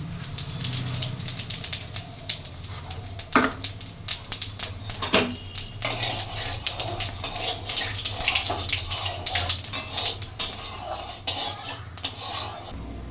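Cumin seeds crackle and spit in hot white oil, a steady broadband sizzle with sharp pops scattered across it, close and fairly loud, with no talk.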